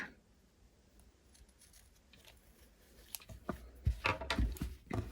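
Scissors snip through yarn thread while crocheting a granny square, a few quick, close, quiet cuts near the end after a stretch of soft handling noise.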